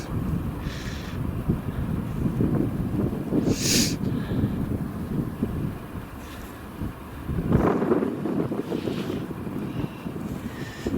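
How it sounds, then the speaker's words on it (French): Strong wind gusting outdoors during a nighttime paranormal vigil, a steady loud roar of buffeting on the microphone with brief swells and a couple of sharper gusts, no voices. "Il y a beaucoup de vent, il y a plus de vent que je pensais."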